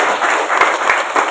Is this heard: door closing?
no